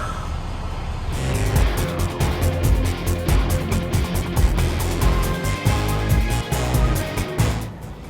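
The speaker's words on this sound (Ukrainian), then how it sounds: "А ми в трафіку" Road traffic rumbles around a moving pickup truck towing a horse trailer near Dallas, a steady loud engine and road noise with a few rhythmic clicks and bumps and no talking.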